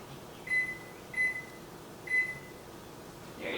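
An oven timer is set for baking cupcakes: three short electronic beeps spaced about half a second or more apart, clear over a faint room hum.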